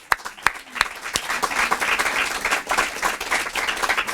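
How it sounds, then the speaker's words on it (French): An audience at a school project presentation bursts into applause, starting with a few sharp separate claps and swelling into sustained, fairly loud clapping from a crowd. "Et je souhaite qu'on les applaudisse."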